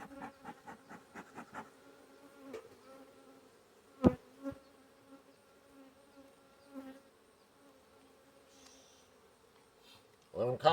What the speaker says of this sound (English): Got some bees pelting me now in the face.